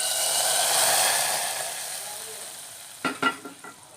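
Hot tempering for an irumban puli dal curry sizzles loudly and steadily, then fades, followed by a few sharp clinks of a pan or ladle near the end.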